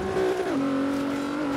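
Engine of a race car driven in Forza Horizon 3, a steady loud drone that drops in pitch midway as it shifts and holds on a straight, a car that feels loose and floaty at high speed.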